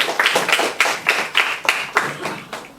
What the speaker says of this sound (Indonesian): mari kita sambut dengan tepuk tangan hamba Tuhan Pastor Daniel Rusli.